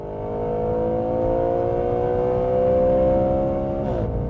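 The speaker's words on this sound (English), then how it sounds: "as soon as you step on the throttle, you're also going to hear the engine roar" An Audi RS5 engine roars under throttle, a sustained rising drone of tightly stacked tones that climbs steadily in pitch and stays loud and close before dropping off near the end.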